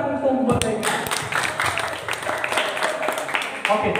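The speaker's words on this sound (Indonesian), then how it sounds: "Mari tepuk tangan untuk buat mereka." An audience claps after a traditional Nias song performance, a steady patter of hands running for about four seconds with voices mixed in.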